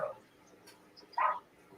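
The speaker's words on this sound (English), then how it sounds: "Kenny, is there a puppy excited about some fireworks?" An excited puppy yips during fireworks: a couple of faint, short barks, the last one clearest, against a quiet background.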